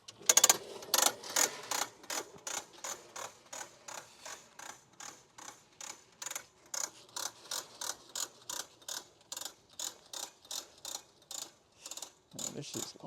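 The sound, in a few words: hose reel being unrolled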